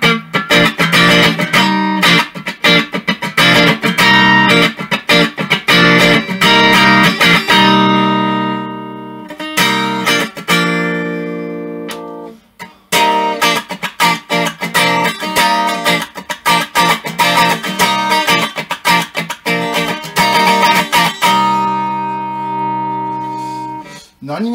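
Homemade electric guitar played through its front pickup with distortion, loud sustained chords and riffs in two bursts separated by a short pause, with no talking over it.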